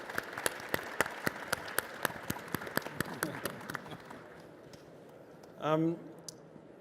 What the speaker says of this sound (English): can I have a round of applause for our panel for their presentations?